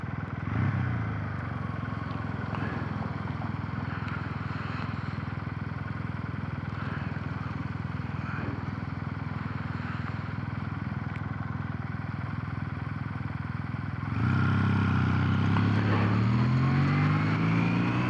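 A Kawasaki W800 motorcycle engine on the road, its steady rumbling drone held for a long stretch before the revs climb and the note rises in pitch and grows louder as it accelerates, with wind noise throughout.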